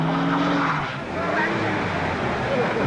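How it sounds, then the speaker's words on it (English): Squealing wheel spin from a car doing a burnout on a track in 1980s Australia, a loud wavering tyre screech over revving engine noise, with voices talking over it. "Judging by the sound of that really squeaky wheel spin"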